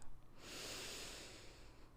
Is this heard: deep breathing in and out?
yes